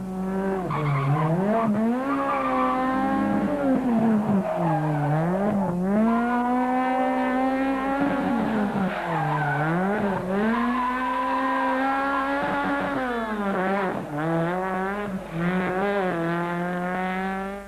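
A Toyota rally car races hard on a tarmac stage, its engine wailing up and down through gear changes with tire squeal and skidding, loud and close throughout.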